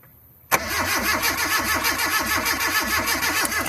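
A dead Mazda car engine cranking with no fuel reaching it, the starter churning in a steady rapid rhythm from a sudden start and continuing loud and close without catching.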